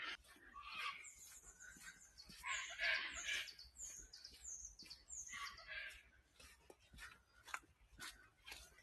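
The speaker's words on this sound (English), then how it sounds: "they were cockatoos, and they are noisy." Cockatoos call at daybreak around Narrabeen Lagoon, a series of harsh squawks and screeches at moderate distance, overlapping in irregular bursts with smaller chirps between them.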